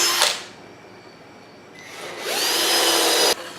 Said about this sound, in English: we're just going to drill these holes in to the bottom panel